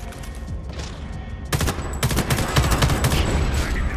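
Sniper and automatic gunfire in the shooter game Homefront: The Revolution, a dense loud fusillade of overlapping shots that erupts after a quieter opening and keeps crackling close by.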